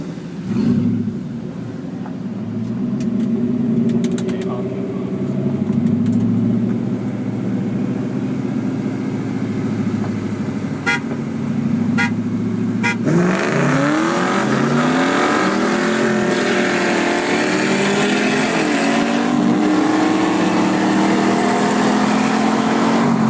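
A 2001 Mustang Bullitt engine idles and rumbles steadily, then roars as it revs hard while the tires spin and smoke, the pitch climbing through repeated sweeps, loud and close.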